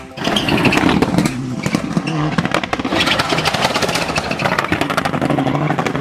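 A toy race car gives off a loud, steady buzzing motor whine, constant and close, running on its own with no talking.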